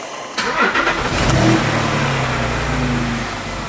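A Porsche Boxster 987 engine cranks and fires after a short quiet moment, then settles into a steady, close idle with a brief rev at the start.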